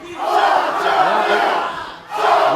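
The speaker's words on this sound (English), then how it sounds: "Listen to this crowd." A wrestling event crowd roars and cheers loudly in a large indoor venue, a sustained wash of shouting voices that dips briefly before surging again.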